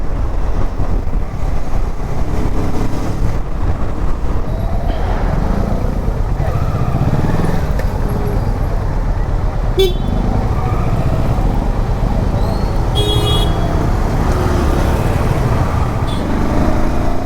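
A new motorcycle riding at night, its engine a steady loud drone mixed with heavy wind rush that continues throughout with no speech.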